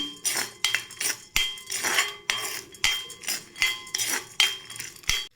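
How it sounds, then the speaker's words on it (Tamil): Peanuts and roasted gram dry-roasting in a pan rattle in repeated bursts as a spoon stirs them, clinking against the metal in a steady rhythm with no talking. "இப்போ நம்ம இதில் பொட்டுக்கடலை சேர்த்துக்கலாம் சேர்த்து நல்லா வறுத்து எடுத்துக்கலாம்"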